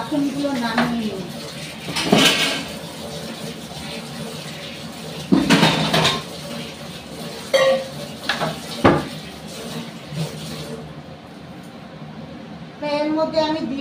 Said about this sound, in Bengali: বাসনগুলো নামিয়ে নিই।